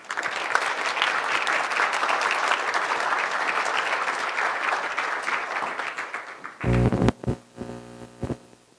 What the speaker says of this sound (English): Please give a round of applause again to our two presidents.